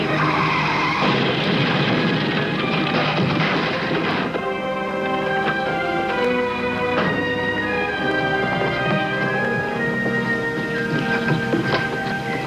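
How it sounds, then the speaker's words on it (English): Long, loud tire skid from a car, a sustained screeching squeal with shifting tonal streaks that drags on for several seconds and slowly fades without a clear impact. "They're gonna crash!"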